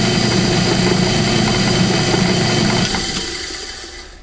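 An old bench grinder motor with worn, loose bushings spins with a steady, loud mechanical hum, then cuts off and winds down over its last second.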